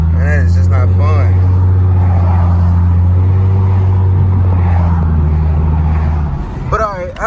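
A 2014 Mustang with a Roush axle-back exhaust drones steadily up close, then drops off as the car downshifts and brakes, with a person talking over the engine throughout.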